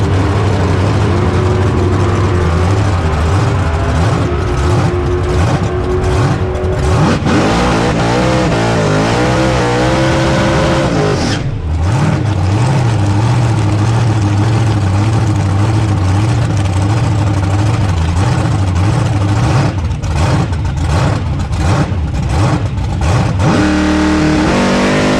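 A 1953 Chevy truck's engine roars loudly at a drag strip, droning steadily with revving surges and a brief dip near the middle, close and continuous without speech.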